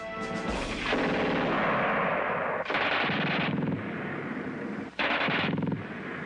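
Bursts of MG42 machine gun fire come from a training film, loud, long, tearing rapid-fire strings with slight echo, broken by brief pauses.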